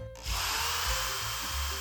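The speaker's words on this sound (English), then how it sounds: "I still have a hole to drill, because when my plate is in the proper position, I still have a hole right down there" A power drill bores a 1/8 inch hole for a screen door latch plate, a steady close whine starting abruptly and running without pause, with a low motor hum beneath.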